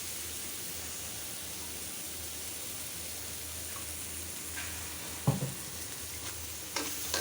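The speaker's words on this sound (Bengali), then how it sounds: "এখন মশলাটা একটু কষিয়ে নেব আর একটু তেল দিয়ে দিচ্ছি" Spice paste sizzles and fries steadily in hot oil as it is stirred for a pungent Bengali mashed dish, with a few sharper clatters and scrapes near the end.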